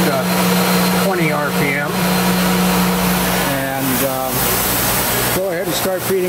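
An industrial screw press for dewatering runs with a steady, loud mechanical hum and drone, its screw turning at slow speed, while someone talks over it throughout.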